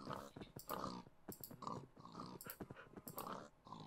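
A tamed wolf dog in the video game Minecraft gives a series of short, repeated whines and yips in a quick rhythm. The sounds are soft and quiet.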